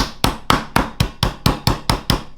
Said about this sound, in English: So I'll just put some plastic over, and now I've got my hammer.